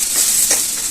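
Onions sizzling and frying in a pan while being stirred, a loud continuous hiss with brief scraping swells, close up and without speech.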